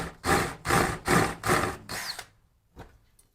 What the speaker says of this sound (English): I'm going to use a Forstner bit and start it on one side